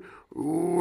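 A short, low cartoon dog growl rising after a brief pause, close and fairly loud, with a slightly exaggerated, cartoonish tone.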